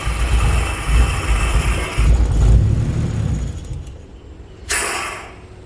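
A turbocharged Nissan Skyline R33 being tuned for the dyno idles with a deep, uneven rumble that dips and swells, then a sudden sharp hiss of air bursts out near the end.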